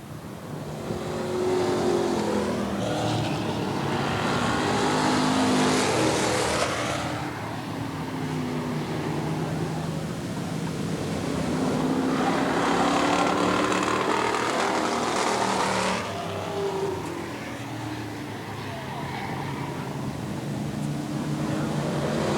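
Race cars lap an oval at Eugene Speedway, their engines rising and falling in two long passing swells as the pack goes by and fades again, a mid-distance snarl under a constant crowd-track murmur.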